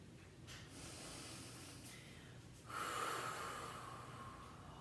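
Slow, audible ujjayi breathing during a gentle plus-size chair yoga flow, a close, soft breathy rush with a long hissing exhale swelling in the second half, heard alone without talk.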